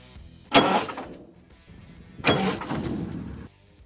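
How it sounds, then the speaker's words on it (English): Starter on a 1984 Peterbilt 359 truck that sat parked for over 20 years gives two short cranking bursts, a brief one and then a longer one of about a second, loud and close with no voices. "Just bump it, see if the engine turns."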